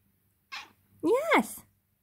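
A pet cat eager for Dreamies treats vocalises twice up close: a short raspy call, then a louder, longer rising-and-falling meow.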